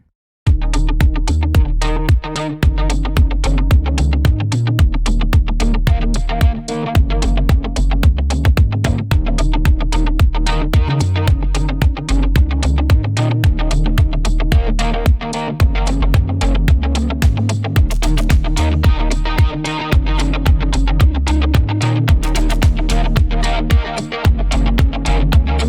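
A distorted guitar tone built from a synth with effects plays inside a full song mix, with dense driving chords and steady drums running loud and continuous for the whole stretch, no talking.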